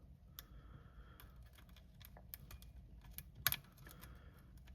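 A lock pick works the pins of a Master 570 padlock, making faint, sparse ticks and small clicks over a low background hum, with one sharper click cluster near the end.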